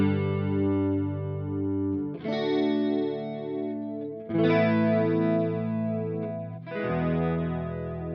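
Sustained synth chords with a smooth, slowly wavering chorus shimmer, changing chord three times, no voices.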